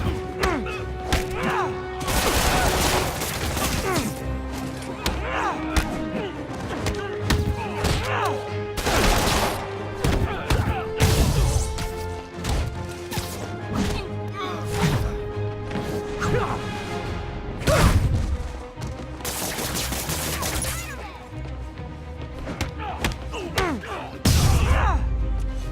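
Gunfire in the Marvel's Spider-Man video game comes in loud, dense bursts among crashes, thuds and impacts, with a musical score playing throughout and brief shouted voices.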